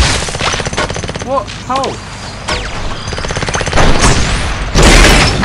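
Rapid automatic gunfire in the car-combat game Crash of Cars, loud bursts with whooshing effects and a heavy boom near the end, under a player's brief exclamations.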